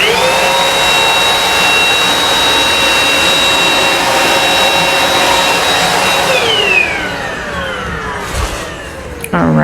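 A Eureka Rapid Clean Pro cordless stick vacuum runs on its high setting with a loud, steady high-pitched whine, then spins down near the end, leaving a quieter hum and a few faint clicks.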